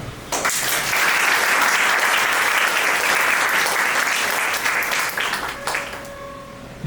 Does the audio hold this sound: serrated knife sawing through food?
no